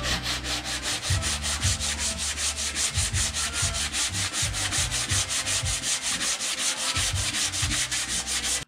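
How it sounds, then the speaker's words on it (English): Rhythmic back-and-forth sanding of Bondo body filler on a rust-repaired 1988 Ford Bronco II, with steady, closely miked scraping strokes repeating at a quick, even pace and no talking. "the first layer of Bondo is sanded pretty decently"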